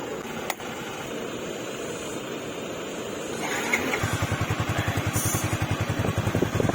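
A stock Yamaha Sniper 155 VVA motorcycle with its original exhaust, idling as a steady broadband rumble that then builds into a faster, pulsing engine beat, close and fairly loud.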